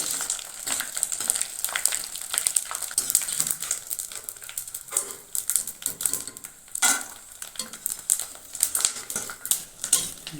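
Small pieces of edible gum (gond) sizzling and crackling in a little hot ghee, a busy, continuous fry with scattered pops and occasional stirring scrapes.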